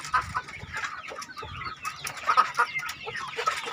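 Chickens raised on an Indonesian poultry farm cluck steadily and close by, several birds overlapping in a busy, continuous chatter with occasional sharper calls and no voices.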